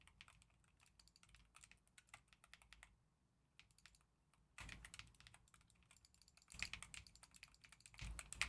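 Rapid keyboard typing picked up by a desk mic, a close flurry of clicks in bursts with short pauses, growing louder in the later stretches, with no talking.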